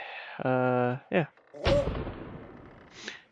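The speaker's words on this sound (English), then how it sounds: "I'm showing off my cannon." A cannon in a 2D pirate video game fires with a single loud, deep boom that rings out and fades, surrounded by short voiced sounds from the player.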